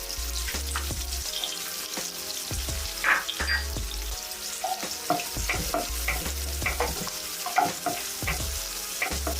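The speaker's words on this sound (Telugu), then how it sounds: "చిల్లీ కూడా ఒక 2 మినిట్స్ పాటు ఫ్రై అవ్వనిద్దామండి." Chilli frying in a pan as sandwich stuffing alongside onions and vegetables, a continuous close sizzle broken by frequent scraping stirs and clatter of a spatula, no voices.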